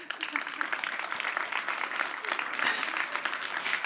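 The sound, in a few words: audience applause at showcase ceremony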